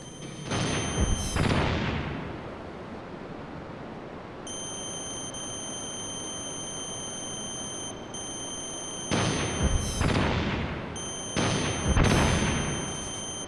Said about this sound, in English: let's try a Stinger missile